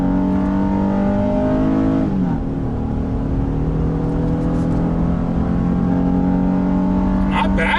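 A 2020 Honda Ridgeline pickup towing 3,000 pounds accelerates hard from a stop, its engine droning loud and steady with a brief dip as it shifts gear partway through, the drone then building again as it keeps pulling.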